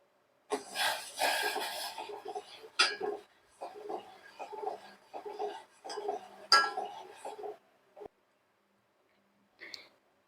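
A spoon clinks and scrapes against a pot while sugar is stirred into masala chai, a series of irregular metallic taps and rattles, fairly close, with brief pauses and a final short clink after silence.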